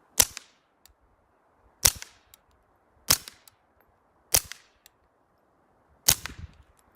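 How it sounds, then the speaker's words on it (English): Five sharp suppressed gunshots from a rifle fire at spaced intervals, each a crisp crack followed by a short thud of the bullet striking a fallen tree, close and loud against quiet surroundings. "I'll shoot into that down tree right next to it and see what that sounds like"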